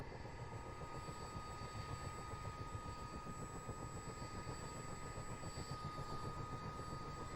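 A CH-47D Chinook helicopter's second engine spools up in Microsoft Flight Simulator while the first is already running, producing a steady, loud turbine drone with a high whine, no voices.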